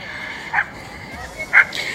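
A puppy gives two short, high yips about a second apart, close by over a quiet room background.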